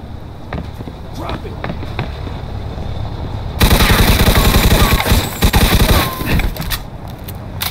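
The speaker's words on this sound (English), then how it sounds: "some nut job here shooting a gun" Rapid bursts of automatic gunfire erupt in a Mafia II shootout, loud and dense for the second half after a quieter stretch of scattered shots and background noise.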